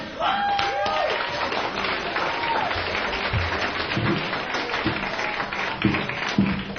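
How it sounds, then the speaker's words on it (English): Light audience applause in a played live recording from a studio show, a thin, steady smattering of claps lasting throughout, with a few distinct louder claps near the end. "thank you for that smattering of applause"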